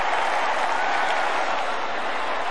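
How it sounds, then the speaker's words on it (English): A stadium crowd at Stadium Shah Alam buzzes during a 1995 preseason football match between Selangor and Manchester United after a Lee Sharpe goal: a dense, steady roar of cheering and clapping with no pauses. "The crowd still buzzing from that Lee Sharp goal"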